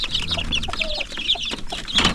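Several chickens cluck and chatter continuously at close range in a backyard coop with chicks, with overlapping calls and no talking.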